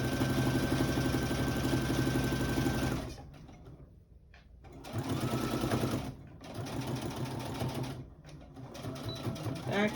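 A home sewing machine hems the armhole of a top, running in steady buzzing stretches with short pauses between them. A nearby voice talks over part of it.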